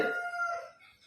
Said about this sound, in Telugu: మా కోళ్ళు లొల్లి బాగా అయిపోయింది